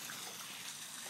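Faint, steady running water from a small backyard waterfall in Indiana, an even wash of flow heard alone.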